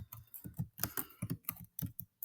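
Typing on a computer keyboard, a quick run of close, crisp keystrokes in uneven bursts with short pauses, heard alone.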